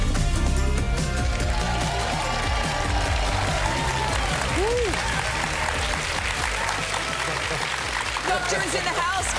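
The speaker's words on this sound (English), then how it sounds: "Keep the applause going, Dr. Andrew." A studio audience applauds on a wellness TV show, dense and continuous throughout, with music and a host's voice running over it.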